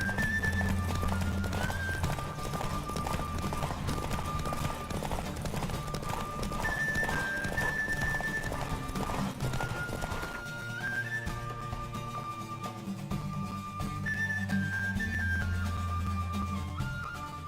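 Galloping horse hooves in The Witcher 3 game, a steady rapid clip-clop under continuous music throughout, with an occasional neigh; loud and sustained with no pause.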